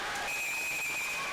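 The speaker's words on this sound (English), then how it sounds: "Whistle blows." A referee's whistle at an ice hockey game between the Birmingham Bulls and Pensacola Ice Flyers sounds as a sustained shrill tone over the arena's crowd noise.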